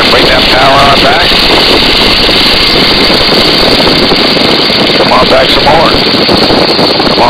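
Loud, steady drone of a Boeing Stearman N2S-3 biplane's engine, filling the cockpit continuously with a dense, rumbling roar as the power is brought back, with no break across the span.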